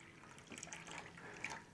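Kangen 9.5 water poured straight into a drink, a short, soft trickle and splash lasting under two seconds, close and quiet with no voices.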